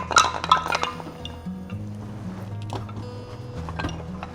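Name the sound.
percussion instrument being struck in an abandoned school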